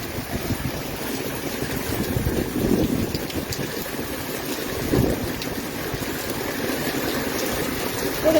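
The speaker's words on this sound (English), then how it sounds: "Look at that water gushing." Storm rainwater gushes and rushes during a heavy thunderstorm in Taft, a continuous loud wash of flowing water under wind-blown rain, swelling slightly in a few places, with no talking.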